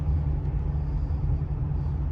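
A steady low rumble of a 1987 Oldsmobile Cutlass Salon driving, heard from inside, smooth and continuous with no talking.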